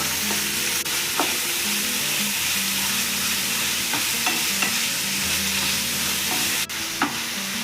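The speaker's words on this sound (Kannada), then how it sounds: "ಚೆನ್ನಾಗಿ ಫ್ರೈ ಮಾಡ್ಕೋಬೇಕು" Onion and green chili frying in a pan for chilly chicken, a constant close sizzle with repeated scraping strokes of a spoon stirring, plus a few sharp clinks against the pan.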